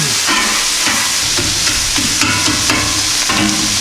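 Sausage sizzling and frying on a Camp Chef FTG600 flat top grill, a steady loud crackle throughout with scraping spatula stirs, no talking.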